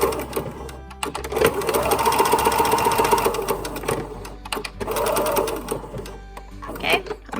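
A sewing machine runs in two long bursts of stitching on a neckband, with a short pause between them and a few light clicks near the end.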